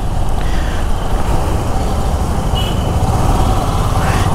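Royal Enfield Himalayan motorcycle riding through Hyderabad city traffic toward Hitec City, a steady engine drone mixed with surrounding road noise, loud and continuous with no pauses.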